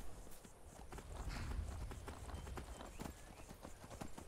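Horse hooves clip-clop steadily in Skyrim, a close, continuous walking rhythm of hoofbeats over a low rumbling game ambience, with no talking.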